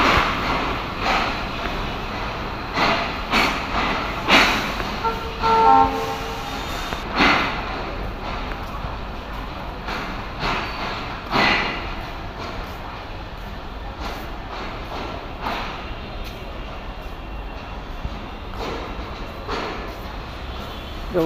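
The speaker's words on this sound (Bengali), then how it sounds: "বন্ধুরা, এই যে আরেকটি ট্রেন" A train at Khulna railway station rumbles and clanks at moderate distance, with irregular bursts of knocks and squeals amid steady platform noise over a long stretch.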